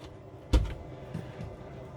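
A drawer in an Iveco campervan slides open with a single soft thump and short rattle, followed by a fainter knock, heard close up in a quiet interior.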